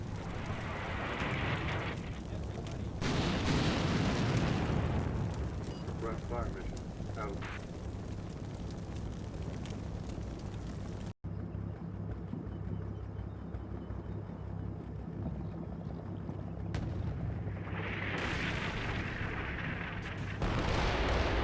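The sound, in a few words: artillery rounds landing in Combat Mission Cold War video game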